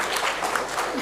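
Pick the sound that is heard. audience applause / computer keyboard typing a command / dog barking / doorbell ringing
audience applause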